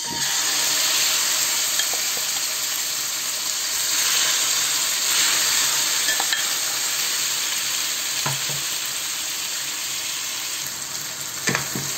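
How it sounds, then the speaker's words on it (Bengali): Marinated meat fries in hot oil for Chinese biryani, giving a loud, steady sizzle throughout with occasional soft clinks and stirring scrapes near the pan, no speech. "এই ম্যারিনেট করে রাখা মাংসটাকে আমি দিয়ে দেব তেলের মধ্যে।"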